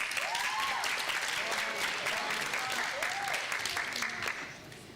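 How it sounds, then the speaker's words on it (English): Applause fills the hall at a graduation ceremony, a dense, steady clapping from a large audience that carries for several seconds, with a voice briefly heard over it, before it starts to fade at the end. "A round of applause."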